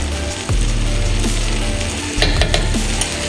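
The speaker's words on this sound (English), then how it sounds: "Now I'm gonna go ahead, add some garlic in." Garlic sizzles and fries in a hot pan for a curry chicken rasta pasta, a loud continuous crackle close by with a few brief stirring knocks.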